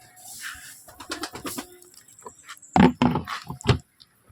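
Pigeons coo in soft, throaty bursts while being fed, close by and intermittent, with a couple of louder rumbling coos near the end and some light shuffling between them.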